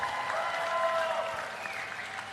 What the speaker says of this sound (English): Can we please have another round of applause for the 2025 Super League champions